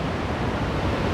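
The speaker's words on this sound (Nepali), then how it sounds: "हेर्नु त कसरी झर्छ पानी" Water at Mailung waterfall in Nepal pours down in a dense, continuous roar of broadband rushing noise, close and loud with no voices.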